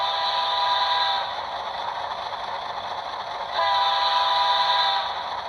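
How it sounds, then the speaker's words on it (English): Rapido GMD-1 six-axle model locomotive with an ESU LokSound decoder sounding its Doppler horn effect, a steady multi-tone horn blast that dips briefly in the middle, then swells louder again, with no talk. "they've also got these special features like a Doppler horn as you hear it going by"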